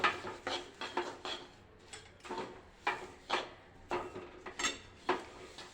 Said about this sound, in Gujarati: હવે આપણે તેમાં તલ લઈ લઈશું અને બરાબર હલાવી લઈશું